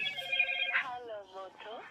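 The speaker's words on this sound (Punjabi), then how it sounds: "ਸੀਮਾ ਦਾ ਫੋਨ ਆ ਜਾਂਦਾ" A phone rings in a home kitchen with a short, steady electronic tone. A voice starts speaking right after it, and the whole moment is brief and fairly faint.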